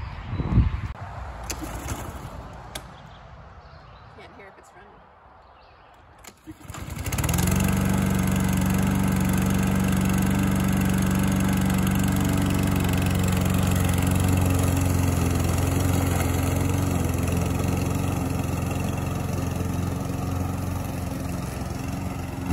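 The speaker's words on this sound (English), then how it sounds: "she's gonna start mowing over by those buildings." A lawn mower mowing a new property starts up after a quiet, rustling stretch, then runs as a loud, steady, close engine drone for the rest of the clip.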